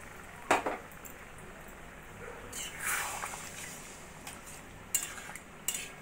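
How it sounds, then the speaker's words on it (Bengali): Chicken being mixed with spice masala in a pan for butter chicken, a utensil clinking and scraping against the metal in a few sharp knocks over a faint sizzle. "মাংস দিয়ে মশলার সঙ্গে মিশিয়ে নিয়ে ভালো করে"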